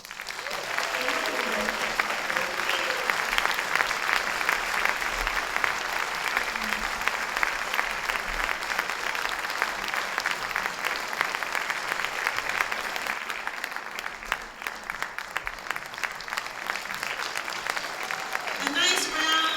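Sustained crowd applause for award winners at a Martin Luther King Jr. Day gathering, steady and dense for nearly twenty seconds, with a voice speaking briefly near the end.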